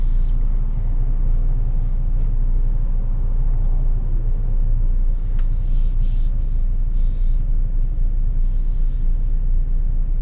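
A 2017 Volvo V90 Cross Country drives in comfort mode for everyday use, with a steady low road and engine rumble and occasional faint higher whooshes, and no talk.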